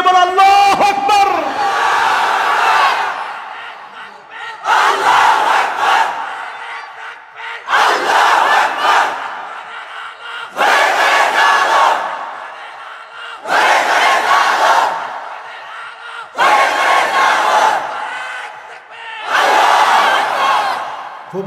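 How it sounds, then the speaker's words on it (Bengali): Large crowd of young men at a Bangla Islamic waz sermon gathering shouting the takbir in unison, seven loud chanted bursts separated by short pauses, with a lone voice leading in at the start. "তোমরা তাগড়া যুবকের মতো তাকবীর ধ্বনি দিয়ে বলো আল্লাহু আকবার"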